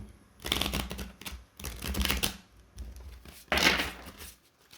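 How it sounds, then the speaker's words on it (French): A deck of playing cards being shuffled up close, several riffling bursts with short pauses between them and one sharp final flurry, no voices over it. "Je vais mélanger pour décoller un peu les cartes."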